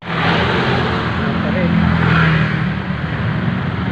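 Road traffic at sunset heard from inside a car stuck in a jam, a loud, steady engine and road rumble from nearby vehicles with no talk.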